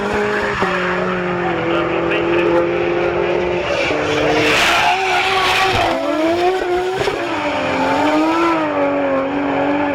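Mazda MX-5 drifting at a track action day, its engine revving in rising and falling sweeps with continuous tire squeal and skidding, loud and close throughout.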